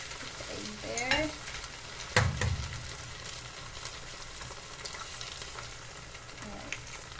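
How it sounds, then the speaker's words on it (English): An egg cracked into a hot wok beside pushed-aside noodles for pad thai, giving a loud, steady sizzle with a sharp crack and splat near the start, then continuous frying and light stirring. "crack the egg, put the egg there"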